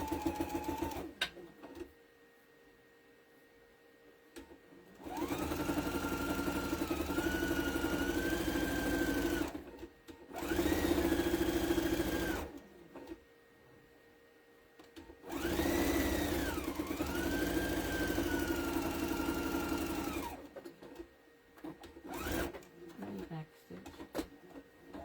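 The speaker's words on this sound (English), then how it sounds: "Use your walking foot too, because it is pretty thick." A sewing machine with a walking foot stitches a thick bag seam in several steady runs of a few seconds each, separated by pauses, close and fairly loud.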